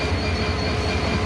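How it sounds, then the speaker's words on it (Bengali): The Dolanchapa Express, hauled by locomotives 2929 and 2930, rolls into Parbatipur Junction with a loud, close, continuous rumble of wheels and carriages. "দোলন চাপা এক্সপ্রেস ভাই, এটা দোলন ঢুকছে"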